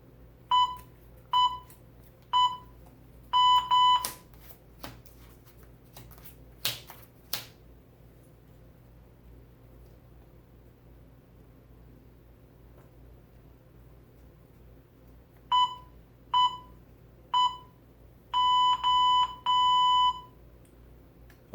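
The board game Split Second's electronic timer beeps in quick repeated bursts of short electronic tones, a group of pips, a pause with faint clicks, then more rapid beeping toward the end, near and clear with no talking.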